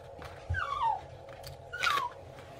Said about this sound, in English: the dog is whimpering behind me